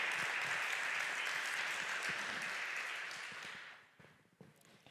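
Church congregation clapping in praise during a prophetic conference service in Portugal, a steady, fairly soft burst of applause that fades out after about four seconds, leaving a few scattered claps.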